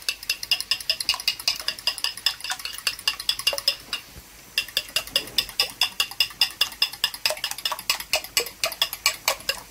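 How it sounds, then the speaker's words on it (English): Eggs being beaten in a bowl for a yam and egg sauce: fast, regular whisking clicks against the bowl, with a brief pause midway before the rapid rhythmic tapping resumes, close and clear. "now I'm gonna beat my eggs"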